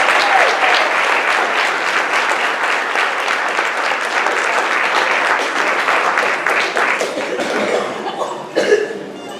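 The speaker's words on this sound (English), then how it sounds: "Let's give the class of 2017 a great big round of applause." An audience at a high school grand march for the class of 2017 applauds loudly and steadily, a dense wash of clapping with a few chuckles and coughs mixed in.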